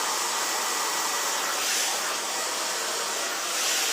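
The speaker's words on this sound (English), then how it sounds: "give your roots a shimmy with your diffuser next time you are drying your hair" A hair dryer fitted with a diffuser runs steadily while drying curly hair, giving a loud, continuous broadband whoosh of blowing air that swells slightly at moments, with no talking.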